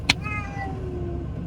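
A cat meows loudly in a car on the way to the vet in Okinawa, giving one sharp cry followed by a drawn-out, falling wail that fades over about a second, heard close up over low road rumble.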